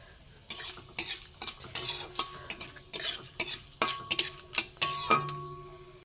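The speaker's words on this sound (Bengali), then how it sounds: "এবার এতে আমি আলু দিয়ে দিলাম।" Potatoes stirred into a pan of oil tempered with five-spice for a vegetarian pumpkin and drumstick dish, with repeated scraping strokes of a spoon against metal and light sizzling underneath, close and steady.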